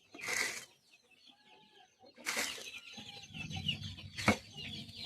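Chickens cluck and flutter nearby while feeding, with short bursts of wing flapping and scattered clucks over quiet farmyard background.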